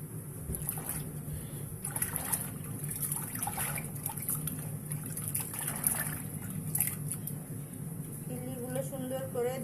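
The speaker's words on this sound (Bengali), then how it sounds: "পানিতে তিল্লিগুলো পরিষ্কার করে নিব।" Water runs and trickles while beef spleen is washed, a steady close splashing stream that continues throughout, with faint voices in the background.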